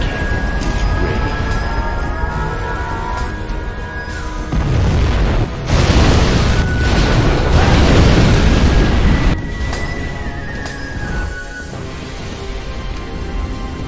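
A nuclear missile launches and detonates in the real-time strategy game C&C Generals Zero Hour, rising into a deep, rumbling boom that swells and holds for several seconds before rolling off. The explosion is loud, under faint game music and no speech.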